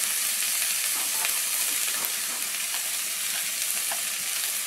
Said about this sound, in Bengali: হালকা একটু মশলাটা কষে নিয়েছি